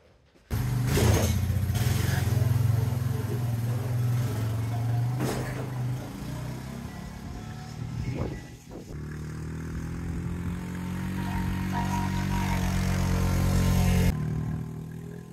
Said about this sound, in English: let's jump on the four-wheeler and head out to the woods and see what we got.